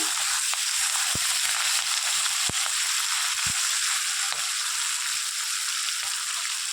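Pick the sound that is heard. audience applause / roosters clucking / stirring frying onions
stirring frying onions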